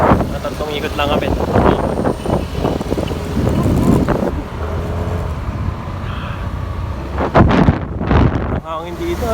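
Steady wind rushing past an open vehicle on a ride through a tree-lined campus route, a constant broad roar with buffeting, while people talk over it.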